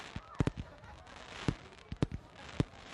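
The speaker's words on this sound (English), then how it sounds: "The fireworks. They look spectacular all the way up here" Fireworks exploding at a New Year's celebration, seen from a high vantage point: a series of sharp booming bursts, several in quick pairs, spread across the moment against a low background hum.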